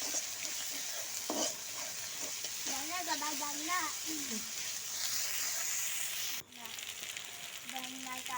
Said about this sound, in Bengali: আমার জিরা বাটা, আদা বাটা সব ভাজা ভাজা হয়ে গেছে